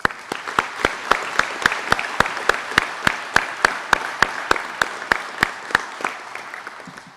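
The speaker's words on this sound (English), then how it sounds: "Let's give them a round of applause, please." Audience applause for instructors at a law enforcement skills program commencement, with one loud, close clapper beating a steady rhythm of sharp claps over a softer bed of crowd clapping that fades near the end.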